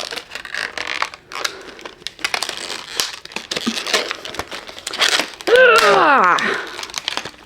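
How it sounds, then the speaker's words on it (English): Scissors being freed from a heavily taped retail package for a cross-stitch kit: close crinkling plastic, creaks and tearing crackles in irregular bursts, with a sharp squeaky rip near the end. "I'm gonna open them out of the package if I can. They're like hardcore taped."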